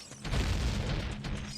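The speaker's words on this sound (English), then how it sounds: "They explode when they die." An enemy bursting apart on death in Ocarina of Time, a single muffled boom that swells quickly and rumbles low for over a second, alone with no talk.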